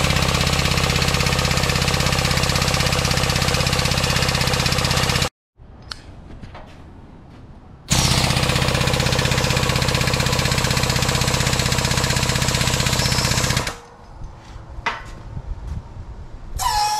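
An air-over-hydraulic jack raising a shop press fitted with four springs runs as a loud, steady pneumatic roar in two long bursts, separated and followed by quieter clanks and mechanical rattles.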